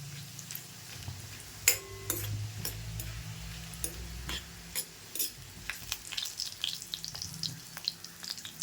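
Cumin seeds crackle in hot ghee while green pea rice is being prepared, giving quiet, scattered pops and a soft sizzle with occasional sharper snaps as the pan is stirred; no voices are heard.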